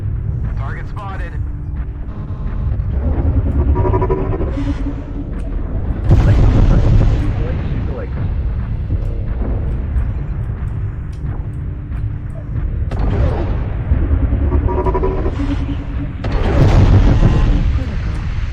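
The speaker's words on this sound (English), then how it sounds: "He had a ammo explosion." Mech ammo explosion in MechWarrior Online, deep rumbling booms and heavy blasts rolling in waves, loud and close, with weapon fire and a voice talking over them.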